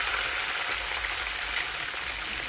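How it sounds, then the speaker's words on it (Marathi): Curry leaves and ground chillies sizzle in hot oil, giving a steady, fairly quiet hiss and crackle with a few brief pops. "आता कढीपत्ता टाकते त्याच्यामध्ये, वाटलेली मिरची टाकली त्याच्यामध्ये"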